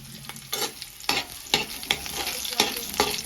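Chili frying in a pan with a spatula stirring it: a steady low sizzle broken by a series of sharp scraping strokes about every half second, close and fairly quiet, with no talking.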